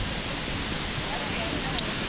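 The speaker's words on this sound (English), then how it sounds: "the views and the sound of the waterfall." A waterfall at Letchworth State Park gives a steady, broad rushing roar heard from a distance, unbroken and even throughout, with no talk over it.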